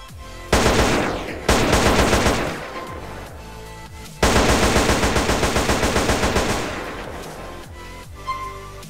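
Video game automatic fire from an M4 rifle in Call of Duty Black Ops: two long loud bursts of rapid shots with a short gap between them, then a fading tail and a faint click.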